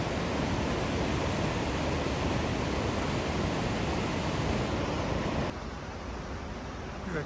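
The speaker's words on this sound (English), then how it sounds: "That river's got a lot of power after all the rain we've had" A river in Linville Gorge, swollen after heavy rain, roars as a dense, steady wash of rushing water, loud and unbroken, dropping slightly in level near the end with no talking.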